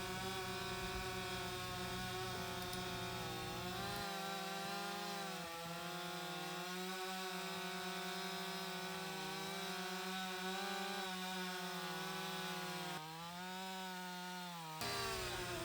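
A chainsaw running an Oregon EXL chain with a badly hand-filed cutter and rakers set for soft wood cuts through wood, its engine whining high and steady, bogging and rising in pitch as it bites in.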